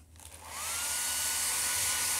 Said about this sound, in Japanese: ちょっとドライヤーするわ。